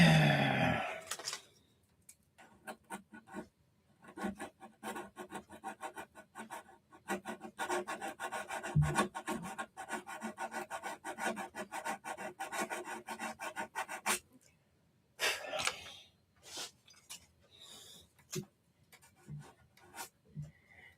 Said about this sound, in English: It's not spraying, it's the sanding.